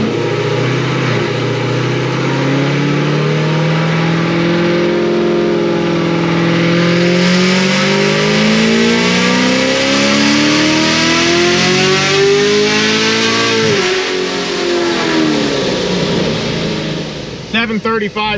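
Procharged LT1 Camaro on pump gas, engine revving hard and loud through a long rising pull with supercharger whine, then cutting off abruptly near the end.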